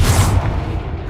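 A fiery blasting spell explodes in a fantasy video game duel, a loud low boom that hits at once and rumbles away over about a second, with a renewed thump right at the end.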